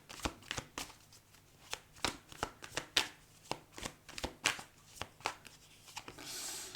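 Tarot cards are cut and shuffled close by in a quiet room, a rapid series of sharp papery riffles and slaps recurring in an uneven rhythm, with a brief softer rustle at the end.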